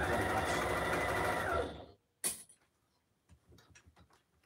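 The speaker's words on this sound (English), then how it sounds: "So this foam is actually really easy to sew through." A sewing machine stitching through foam runs steadily and loudly for about two seconds, then stops, followed by a sharp click and a few faint ticks and handling sounds.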